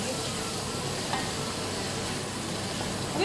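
Mixed vegetables with cauliflower are stirred in a pan, giving a steady soft sizzle with faint scraping, low and continuous with no voices.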